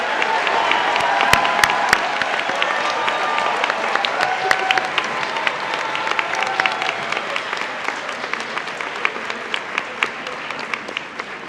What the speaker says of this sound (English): I invite you to turn your tassels to the left as we applaud your outstanding efforts.